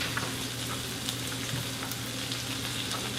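Wild rice stirred in a hot pot gives a steady close sizzle and faint scraping throughout, with no voices.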